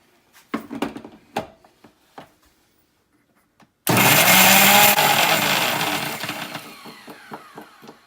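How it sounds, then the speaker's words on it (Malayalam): A kitchen mixer grinder blends spices with coriander powder and salt for a fish pollichathu masala: a few light clicks and taps, then the motor bursts into a loud, close whirring grind that runs several seconds and gradually eases off. "ഇതെല്ലാം കൂടി ഒന്ന് മിക്സിയിലിട്ടിട്ട് അടിക്കും."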